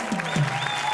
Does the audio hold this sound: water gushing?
no